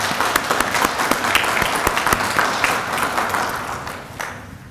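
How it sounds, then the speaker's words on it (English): At an honor society ceremony, an audience gives steady, moderately loud applause with crisp individual claps standing out, tapering off slightly toward the end. "Let's give them a round of applause"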